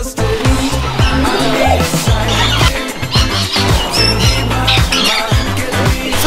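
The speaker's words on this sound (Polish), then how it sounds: "nie były tam same papugi, były też inne ptaki i jeden z tych ptaków bardzo zasmakował w Asi włosach" Parrots and other birds squawk loudly and continuously at a bird feeding area in Kuranda, near Cairns, with harsh overlapping calls and a thumping rhythmic backdrop.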